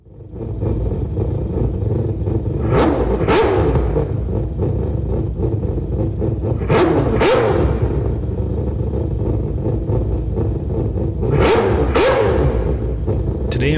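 A Mazda RX-7 engine-swapped with the 787B rotary revs hard in repeated bursts in Gran Turismo 7, rising and falling three times over a steady engine drone, with clean game sound and no talk.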